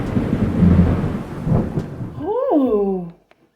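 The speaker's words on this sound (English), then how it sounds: "just as the rain began to pour heavily down" Heavy rain pours with rolling thunder in a storybook sound effect. A loud, dense downpour and rumble fill the first two seconds, then a wavering, swooping tone rises and falls before the sound cuts off.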